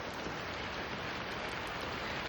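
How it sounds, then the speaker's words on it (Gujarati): Heavy rain pours down steadily in the Kedar valley, a dense, continuous hiss and patter of close, loud downpour with no talk over it. "અત્યારે એકદમ ફાસ્ટ વરસાદ થઈ ગયો"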